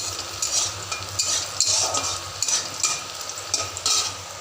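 Onions fry in a little oil for palak paneer, giving a steady, close sizzle with bright crackling bursts that swell and fade in waves, no voices.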